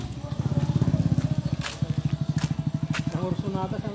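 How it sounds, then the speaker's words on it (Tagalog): A 175cc converted motorcycle engine idles close by with a rapid, even putter that briefly stumbles mid-way, while someone talks over it. "Napakaganda ng kalugkog ng makina mga kabro."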